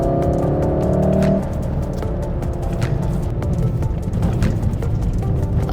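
A car corners on a wet hillclimb road at Genting while tires are being tested, its engine droning loudly at first, then shifting to a rougher, choppier road and tire rumble with sharp clicks.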